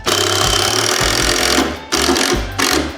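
A power drill drives a screw into a DIY wooden ramp, with loud whining bursts that stop and restart several times as the screw bites into the wood.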